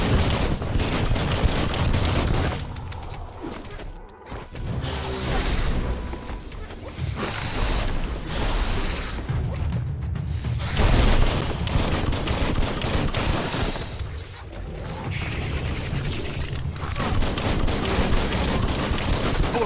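Heavy gunfire in the Biomutant game, with rapid bursts and crashes sustained across the scene, pausing briefly between volleys.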